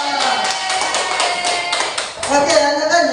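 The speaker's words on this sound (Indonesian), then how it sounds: "Beri tepuk tangan dulu untuk kelompok 2." A classroom of students claps for a student group in an Indonesian school lesson, quick close hand claps, fairly loud, with voices mixed in.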